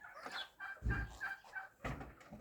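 Hens clucking softly in short, irregular bursts, with a couple of low thumps in between; quiet and fairly close.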